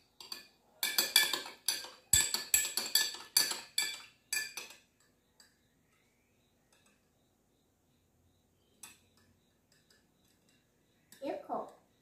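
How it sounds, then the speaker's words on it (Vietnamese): A metal spoon stirring lemon juice in a glass, with quick bursts of clinking against the sides for several seconds, then silence and a few isolated taps. "Khuấy cho chanh tan hết nha."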